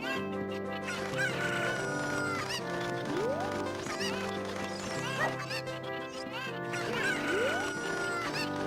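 Chickens clucking and crowing in Ocarina of Time, the game's rooster-like calls recurring over steady background music at an even, moderate level.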